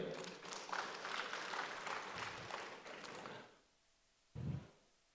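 Audience applause at a national youth organization's working meeting, steady clapping that fades out, followed by a short spoken phrase after a pause.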